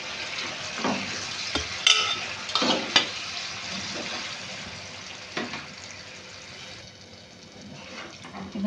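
Flour-dough shapes being stirred in a pan with a little dough-boiling water, a bubbling sizzle punctuated by several sharp scrapes and clanks of the spatula that settle into a softer simmer.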